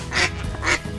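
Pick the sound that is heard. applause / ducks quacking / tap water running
ducks quacking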